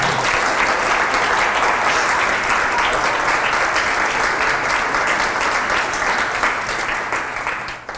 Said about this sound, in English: I brought my own applause.